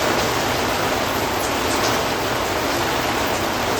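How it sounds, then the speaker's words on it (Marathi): Light drizzle falls outdoors, a soft, steady hiss of fine rain with no other sounds over it. "बाहेर ना असं रिमझिम रिमझिम पाऊस पण पडतोय"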